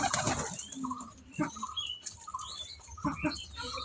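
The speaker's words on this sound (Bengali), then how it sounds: "পাখি কী সুন্দর করে গোসল করছে" A small bird bathing in a water dish, with several quick bursts of wing flapping and splashing spread through the clip and soft chirps and coos between them, close by and fairly quiet.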